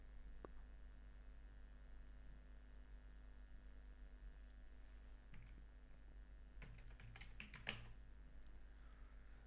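A short burst of quick keystrokes on a computer keyboard sounds faintly over a steady low electrical hum, with a lone click earlier on.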